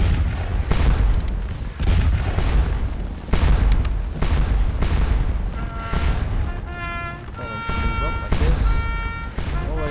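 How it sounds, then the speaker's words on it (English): Rifle fire in Scourge of War: Waterloo, a series of deep booming volleys arriving every second or two, loud and rolling, with tonal game sounds toward the end. "Taking rifle fire, I think."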